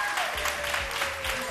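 Audience applause at a live show, a dense, steady wash of clapping with cheering mixed in, close and loud throughout.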